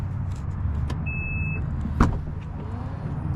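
The automatic power liftgate of a 2023 Mazda CX-50 opens nearby with a short, even electric motor whine, then a single firm thud as it reaches its stop, with no voices.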